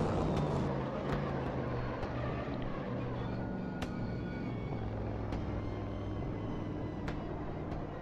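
Race car engine from the RaceRoom racing game on the RaceRoom Raceway circuit: a steady, dense mechanical drone with low humming tones that stays loud and even throughout, with a few faint clicks on top.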